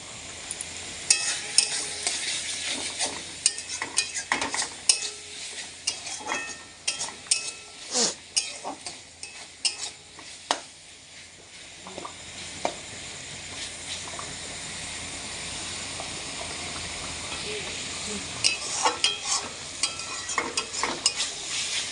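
Spice paste frying in oil while being stirred, with a soft bubbling sizzle under frequent sharp clinks and scrapes of a spoon against the pot that thin out partway through and return near the end.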